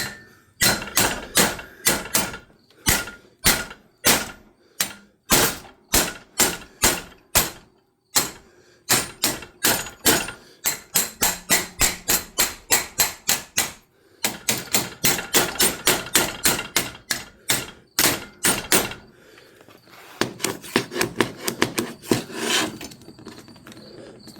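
Repeated sharp hammer blows on a metal tail light bracket for a 1969 Chevy C20, coming in rapid bursts with short pauses between, loud and close, with no talking.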